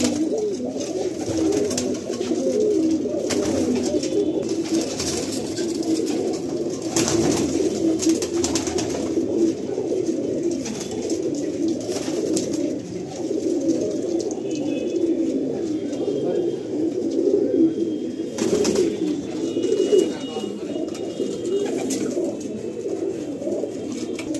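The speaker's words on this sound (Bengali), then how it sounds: "অনেক পায়রা এখানে।" Many pigeons coo continuously in a crowded loft, a dense, steady chorus of overlapping throaty calls close by, with no clear speech.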